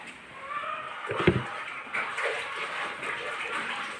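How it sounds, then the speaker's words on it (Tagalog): Boiled water is poured into a container for soaking, a soft splashing trickle with a brief louder clunk, moderately close with light background noise. "lagyan natin ng pinakulong tubig"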